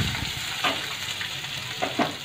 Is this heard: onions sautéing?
yes